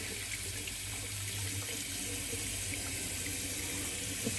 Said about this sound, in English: Now let's fill the basin with some water.